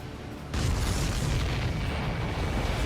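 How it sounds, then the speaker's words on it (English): A deep booming explosion in the Ace Combat 7 flight video game, a sudden heavy blast that bursts in after a quiet half second and rumbles on loudly with no voices over it. "Did you see that explosion?"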